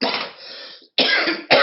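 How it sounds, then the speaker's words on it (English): A person coughs in two or three loud, harsh bursts close by, each fit trailing into a ragged breathy tail, with a short silent gap before the next one. "How am I ever going to stop this coughing?"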